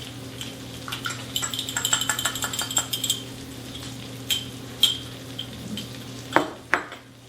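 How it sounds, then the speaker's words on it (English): A beaten egg being stirred into a half cup of breadcrumbs in a bowl, for a delicata squash and wild rice dish, makes a run of soft, close scrapes and light clinks, dense at first and then sparser, with no talk. "And we've got 1 egg I've beaten. I'm going to stir that in."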